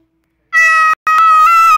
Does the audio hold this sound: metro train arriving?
no